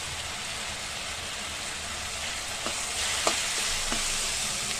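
Ginger garlic paste and turmeric sizzle in hot oil while cooking okra fry with chickpea flour, a steady close crackle broken by a few soft stirring clinks, with no one talking.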